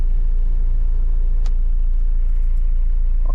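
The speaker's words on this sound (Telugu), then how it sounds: "ఒకసారి ఇంజన్ బీటింగ్ అయితే విన్నాం" A Mahindra Bolero 2.0 diesel pickup idles with a steady low rumble, close and continuous, with a faint tick partway through.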